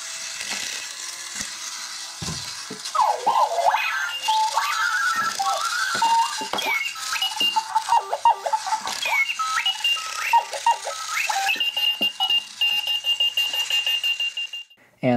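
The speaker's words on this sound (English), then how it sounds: "it will continue ringing and rolling around" A loud electronic Clocky alarm clock on wheels beeps and rings continuously, with rattling and clattering as it rolls around on a hard surface.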